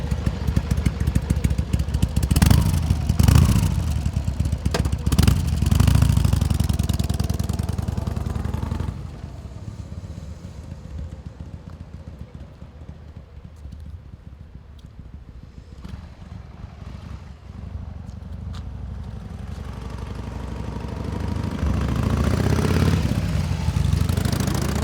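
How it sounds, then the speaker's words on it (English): A 1999 Harley-Davidson XL1200C Sportster in brand-new condition rumbles with a loud, throaty exhaust note, revving heavily for the first several seconds, then settling to a steady lower idle before swelling again near the end. "Listen to the exhaust note on this thing."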